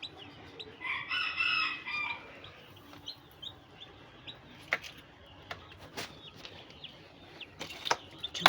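An Andijan black hen with newly hatched chicks, giving a burst of hen calling followed by scattered short chick peeps and clucks spaced through a quiet background.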